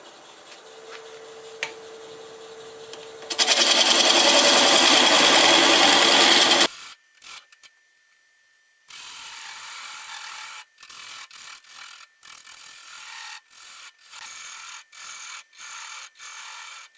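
A wood lathe turns a small sequoia vase as a 1/2 inch gouge cuts, with a loud continuous rasping run, then a series of short, evenly spaced scraping bursts separated by brief pauses, with no talk.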